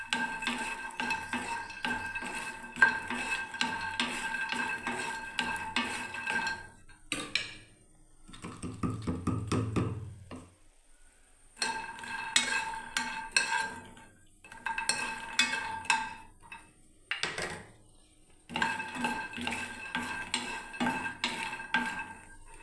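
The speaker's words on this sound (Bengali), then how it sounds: "দেখুন বন্ধুরা ভাজা হচ্ছে মাখানাটা।" Makhana (fox nuts) frying in a pan and being stirred, a quiet close run of scraping and light rattling strokes in several bursts separated by short pauses, with no talking.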